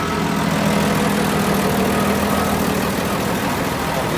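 A Saurer diesel truck engine idles at a UK steam and vintage vehicle show, a steady low rumbling drone with constant vibration, close and continuous throughout.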